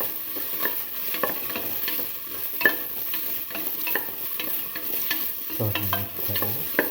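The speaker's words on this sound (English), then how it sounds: "Saute it thoroughly." Cucumber, lentil and coconut milk stew ingredients sautéing in a pan, giving a steady close sizzle with repeated spoon scrapes and taps as they are stirred, no voices.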